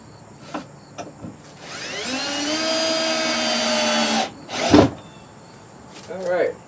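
Power drill tightening screws on a wooden hen nest box, a close whirring motor ramping up and holding for about two seconds, with short clicks and knocks before and a brief bump and voice afterward.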